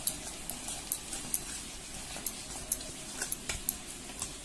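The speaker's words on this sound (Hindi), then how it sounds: "अब इन सारी चीजों को हमें फिर से मिक्स कर लेना है।" Gram flour batter with about half a spoon of salt being stirred by hand for pakoras, giving soft, faint wet squishing with light periodic clicks of a utensil against the bowl, quiet and steady with no talking.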